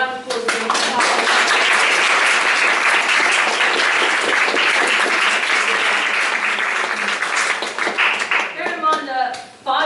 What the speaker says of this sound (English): So we should give each other a round of applause.